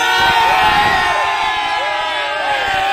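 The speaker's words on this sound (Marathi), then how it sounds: "हा जल्लोष तुम्ही बघताय, हा जल्लोष असाच राहणार आहे." A Govinda pathak crowd at a Mumbai Dahi Handi celebration cheers and whoops loudly, a dense roar of voices with shouting children rising and falling over a few seconds, close and energetic.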